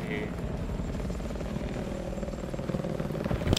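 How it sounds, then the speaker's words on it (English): A helicopter in the multiplayer video game Battlefield 4, its rotor and engine roar a steady, loud drone that swells slightly toward the end, with a voice talking over it. "Oh, there's a helicopter."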